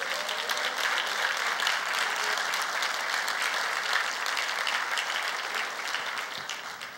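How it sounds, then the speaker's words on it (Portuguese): A church congregation applauds for the Lord, a steady dense wash of clapping from many hands that holds loud and even for the whole stretch, tapering slightly near the end. "Dá um aplauso ao Senhor"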